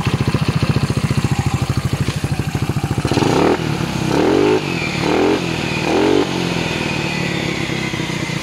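A small GY6 big-valve scooter engine idles with a steady rapid putter, then is revved up in several short bursts, loud and close.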